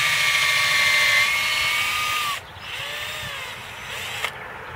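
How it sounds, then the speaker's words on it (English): Power drill boring at a slant into a tree trunk for fungal inoculation, a steady high whine that drops out partway, then resumes more unevenly up close. "I'm going to put my drill in, start it out this way, then slant it up 45 degrees"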